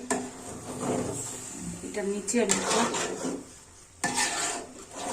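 Vegetable khichuri being stirred in a pot on the stove, with a utensil scraping and clanking against the metal in irregular bursts while a person talks over it.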